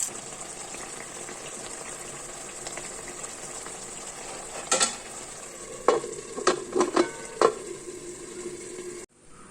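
Mackerel frying in coconut oil with curry leaves in a clay pot, a steady sizzle throughout with a few sharper clatters and stirring knocks near the end, no talk.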